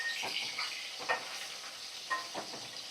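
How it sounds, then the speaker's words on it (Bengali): Four pieces of katla fish frying in a pan over a high flame make a constant bright hiss, broken by a few spattering pops and light stirring sounds close by. "একদম হাই ফ্লেমে রেখে এখন মাছগুলোকে আমি ভাজা করছি।"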